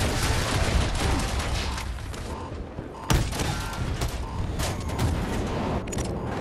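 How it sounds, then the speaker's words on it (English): Gunfire in the shooter Battlefield 2042: loud, continuous bursts of shots with sharp cracks and booms layered over busy battlefield noise. "Landing bullets left and right."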